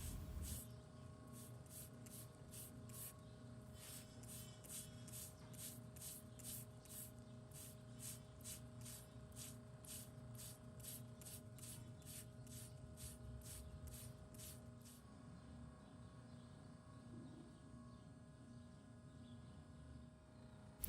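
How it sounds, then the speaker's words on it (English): A water spray rinses debris from a cracked lateral claw on a cow's hoof, a steady close hiss running without a break for about fifteen seconds before thinning out. "Now that I've got that area rinsed out"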